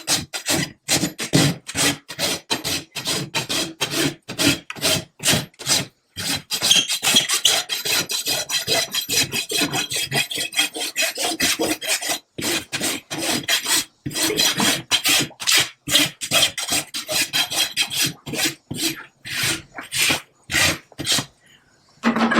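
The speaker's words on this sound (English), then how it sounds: "I'm going to take the rasp and blend down to the parameter of uniform wall thickness" A rasp files a horse's hoof wall during trimming, close and loud with rapid rhythmic rasping strokes repeating steadily, broken by a few brief pauses.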